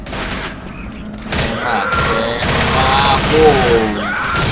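Rapid gunfire bursts from the zombie shooter Left 4 Dead, set in its subway level, crackle loudly and continuously alongside game noise, with a player's voice talking over parts of it.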